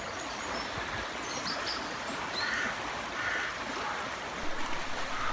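The River Bride, a small river in Blackpool village, flows with a steady, soft rush of water, a faint bird call or two above the continuous murmur.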